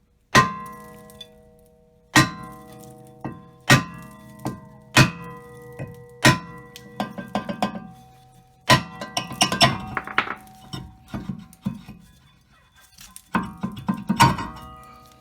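A rusted rear brake rotor is struck with sharp metallic taps, about a dozen clanging hits, spaced at first, then quicker clusters with ringing tails, close and loud.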